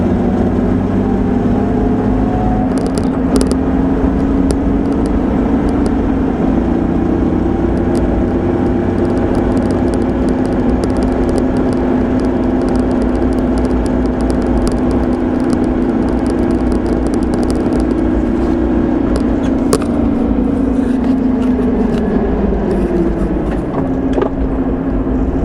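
Car in fourth gear easing through a roundabout in Arizona, with a steady engine drone and tire hum that rises and falls slightly as it slows to about 15 mph, continuous and close throughout.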